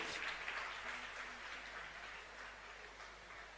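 Audience applause fills a hall during a Jain monk's afternoon sermon, a dense steady clapping that holds at an even level throughout and tapers slightly toward the end, with no talk over it.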